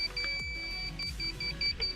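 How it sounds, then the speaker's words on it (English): An electric bike controller emits a series of short, high-pitched electronic beeps during its setup, repeating in a quick irregular pattern over faint background noise. "So all right, so it says beep beep beep."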